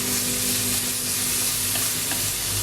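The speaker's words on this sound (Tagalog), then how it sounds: "Haluin natin ang sliced pork." Thinly sliced pork being stirred in a hot frying pan for a pork and kimchi dish, a steady close sizzle with scraping spatula strokes throughout, no voices.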